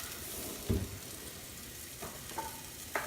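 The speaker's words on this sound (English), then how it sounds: "just need to give this a quick stir and get everything moving in the right direction" Vegetables sizzle steadily in a hot pan, seasoned with salt and pepper. A few scraping knocks of stirring come through the constant close frying hiss, with no talk.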